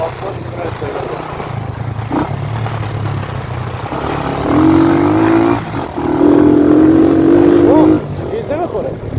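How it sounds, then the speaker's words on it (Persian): A Sunny motorcycle on an off-road test ride idles and then revs in two sustained rising bursts, close and loud, while people talk over the engine. "چقدر این موتور آفرود میتونه استفاده کنه"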